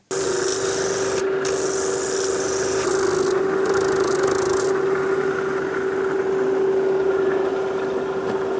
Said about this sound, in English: Trim that off again with the sandpaper